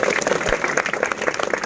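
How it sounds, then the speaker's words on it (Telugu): Loud applause from a gathering honouring sadhus at a Kondagattu Giri Pradakshina event, dense crowd clapping that is close and continuous throughout. "చప్పట్లు గట్టిగా ఒకసారి"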